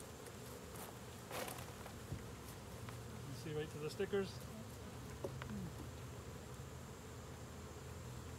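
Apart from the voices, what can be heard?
honey bees during hive inspection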